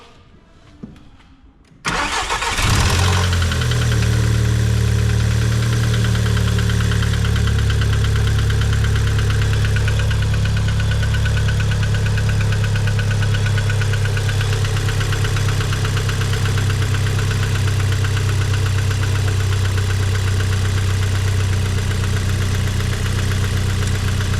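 An Audi EA113 2.0 TFSI engine, just fitted with new hydraulic lifters, cranks and fires on a cold start, then settles into a loud, steady, close idle with a faint ticking knock running throughout.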